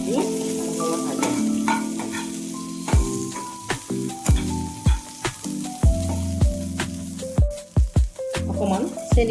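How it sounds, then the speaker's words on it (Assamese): Pieces of rohu fish seasoned with salt and turmeric fry in a pan with a constant close sizzle, punctuated by frequent sharp spattering pops, with tonal sounds and talk running underneath. "এইখিনি নিমখ আৰু হালধি দি অলপ ভাজি"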